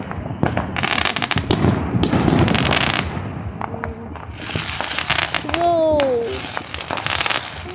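Fireworks burst and crackle nearby in repeated loud pops and sizzling bursts, with a whistling rocket rising, while people exclaim over them.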